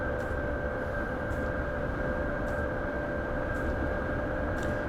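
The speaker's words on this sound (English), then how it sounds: "for an electric train, it doesn't sound too bad" Electric train running in Train Simulator Classic on the Leipzig to Dresden line, a steady droning rumble with a constant hum and faint periodic rattles, heard alone without talk.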